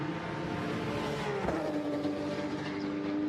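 A Porsche 911 GT3 Cup race car at Zandvoort passes on a flying qualifying lap, its engine a loud, sustained roar with a rising whine as it sweeps close by.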